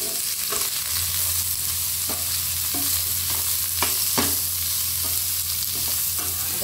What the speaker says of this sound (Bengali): এটাকে হালকা ভেজে নেব।